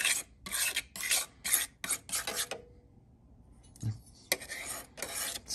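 A locksmith card's small metal scraper tool rasps in short, rhythmic strokes, about seven quick close scrapes, then a pause and a dull tap, then another run of scraping.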